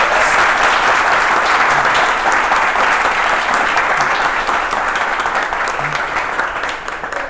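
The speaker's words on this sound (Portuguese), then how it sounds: "palmas aí pro Cláudio" An audience at an Android developer meetup applauds a speaker after a talk, a loud, continuous wash of many hands clapping that holds steady for about seven seconds before easing slightly at the end.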